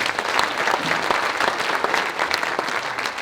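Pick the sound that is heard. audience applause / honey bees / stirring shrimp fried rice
audience applause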